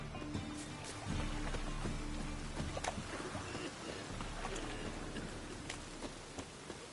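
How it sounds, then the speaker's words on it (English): Steady rain falls in a city in The Witcher 3 video game: a soft, continuous hiss with scattered drop ticks and a faint low rumble underneath. "Must be a city of perpetual rain."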